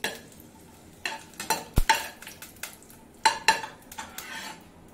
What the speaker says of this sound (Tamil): இந்த எண்ணெயில் ஒரு நிமிஷம் லோ ஃப்ளேமில் வச்சு வறுத்துக்கோங்க.